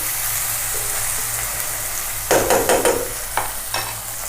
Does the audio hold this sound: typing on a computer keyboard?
no